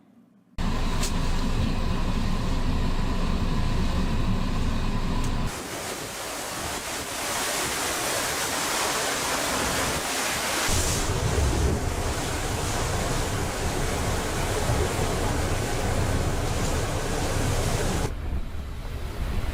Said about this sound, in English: take a look at some interesting video here of a sea roaring